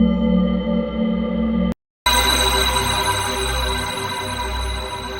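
A mobile phone ringtone plays loudly and steadily, cuts out briefly, then resumes, with the call left unanswered; recorded at night outdoors near a cremation ground.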